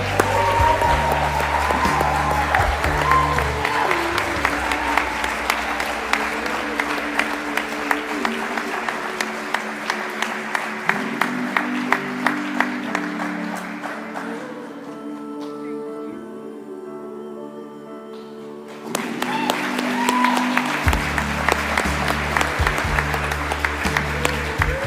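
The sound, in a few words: audience applause at awards ceremony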